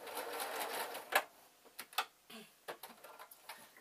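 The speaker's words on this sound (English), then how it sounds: "Now I'm going to sew this through." A sewing machine stitches elastic through on a small fabric car bag project, making a faint, quick mechanical whirr followed by scattered ticks and clicks as the needle works. The sound is soft and close.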